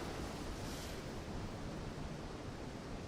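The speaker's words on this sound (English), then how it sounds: "That's a hell of a waterfall." A huge waterfall rushes in the fantasy game Guild Wars 2, a dense, steady roar of falling water that stays loud and unbroken throughout with no voices.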